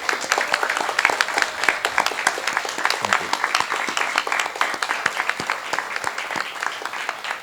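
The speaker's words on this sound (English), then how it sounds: "So if I can get a round of applause from everybody." A crowd of guests at a graduation ceremony for a class of 2021 gives sustained applause to honored scholars: dense, steady clapping that keeps going evenly with no talk over it.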